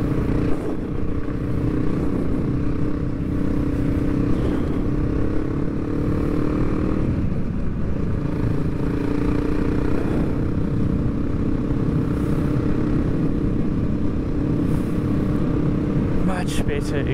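KTM Adventure 390 motorcycle on Motoz Tractionator Adventure tyres riding over gravel and rocks, a constant close engine drone mixed with rough crunching and rattling from the loose surface, with wind noise, and a rider talking over it at times.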